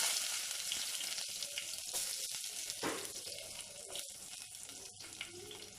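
Sliced onions dropped into a hot pan of oil with cloves and cinnamon for Madurai-style kalyana dalcha, giving a steady close sizzle and crackle with a few faint clinks, no voices.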